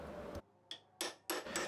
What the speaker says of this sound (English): Here I'm just using a narrow chisel to cut a shallow groove in the surface of the plate.